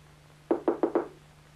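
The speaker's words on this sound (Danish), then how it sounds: "Hun ved godt, det egentlig ikke nytter noget at banke på. Men det gør man nu alligevel." Four quick, evenly spaced knocks on a door, fairly close and distinct against a quiet room with a faint electrical hum, then silence.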